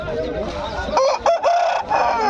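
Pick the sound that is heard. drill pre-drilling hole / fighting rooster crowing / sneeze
fighting rooster crowing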